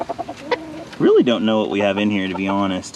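A farmyard rooster lets out a few close, abrupt clucks, then a person talks steadily over faint bird noise for the rest of the moment.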